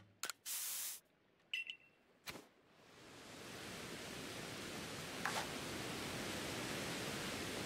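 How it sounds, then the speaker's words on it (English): A stealth spray is used in Pokemon Legends: Arceus: a few short sharp bursts come first, then a long steady hiss that swells and holds, fairly quiet throughout. "Hey, stealth spray."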